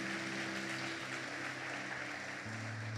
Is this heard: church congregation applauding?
yes